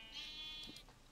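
A single Minecraft sheep bleat, a short wavering electronic baa, quiet and alone.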